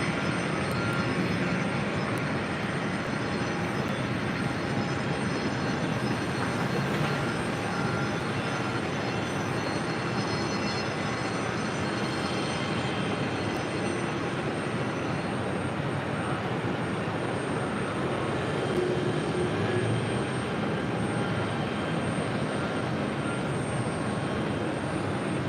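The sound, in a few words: Delta Boeing 767-300ER landing at JFK runway 4 right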